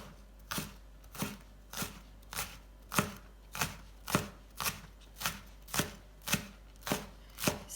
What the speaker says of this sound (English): So I'll just quickly chop up the spring onions.